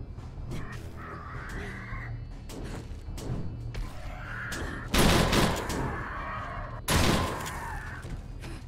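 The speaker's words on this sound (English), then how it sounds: "shotgun's definitely good against vultures, like having the spread" Vultures screech and caw repeatedly in 7 Days to Die while a shotgun fires at them, two loud booming blasts cutting through the harsh bird cries.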